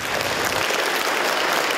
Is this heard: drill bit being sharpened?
no